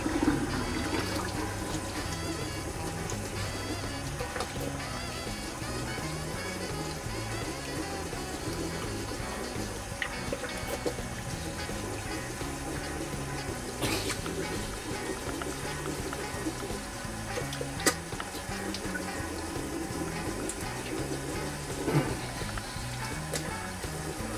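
Cold water runs steadily from a tap for rinsing, a continuous rushing flow with faint clinks, lasting throughout at moderate volume.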